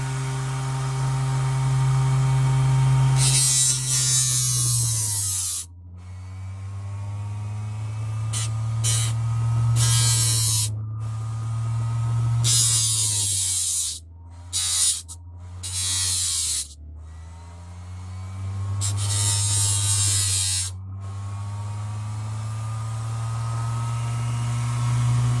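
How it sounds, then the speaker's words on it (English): A small rotary grinder hums and whines as it grinds a 2N3904/2N3906 transistor flat, running in long stretches with repeated brief stops and restarts, the pitch dipping under load, close and steady. "What I need to do is grind it down"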